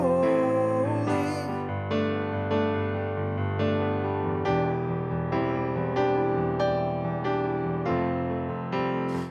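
Piano playing a country-style lick in thirds within a worship song, repeated chord attacks and sliding third figures in a steady rhythm, close and alone without speech.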